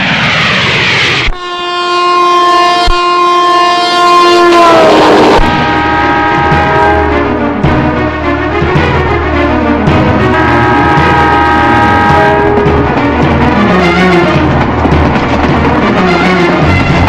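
A train thunders past close by, opening with a loud, sustained multi-tone horn blast and followed by a steady rumble of rolling wagons, with further horn tones partway through.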